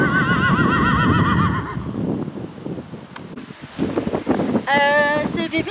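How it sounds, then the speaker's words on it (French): A three-month-old filly whinnies loudly and close in a windy paddock, with a long wavering neigh at the start and another sharp whinny near the end, amid rustling, wind noise and faint talk. "c'est une petite pouliche de 3 mois"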